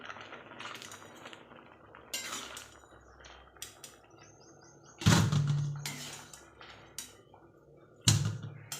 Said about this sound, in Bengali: ছেঁকে তুলে নিই সব